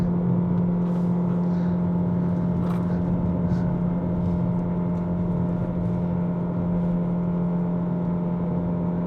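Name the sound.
Proton eMas 7 PHEV engine sound while climbing to Genting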